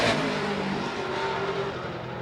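A race car engine screams past during qualifying at La Crosse Speedway, a loud sustained whine that holds high revs and slowly fades over two seconds with no talk.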